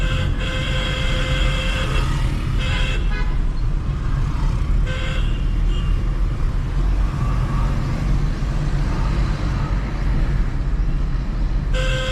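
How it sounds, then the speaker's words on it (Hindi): Car horns honk repeatedly in short and longer blasts at a cyclist over constant loud road traffic and engine noise. "हॉर्न बजाते रहो उसको।"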